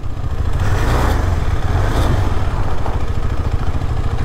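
A KTM adventure motorcycle engine runs steadily and loudly at close range, a continuous low throb with slight rises, on a rough final stretch of dirt road to a homestay.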